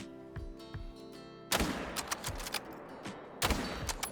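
Rifle shots in the hunting game theHunter: Call of the Wild, two sharp loud cracks each trailing a long rumbling echo over quiet ambient tones.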